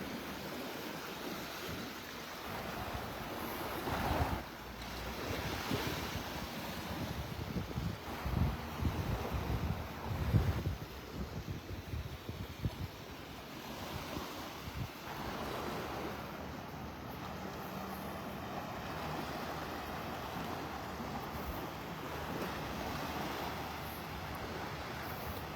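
Ocean surf and wind on Vanderbilt Beach in North Naples, with waves washing in soft repeated swells over steady wind rumble against the microphone, moderately quiet and continuous.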